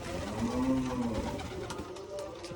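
Pigeons coo softly in a low, rolling murmur, with faint bird calls and background noise around them.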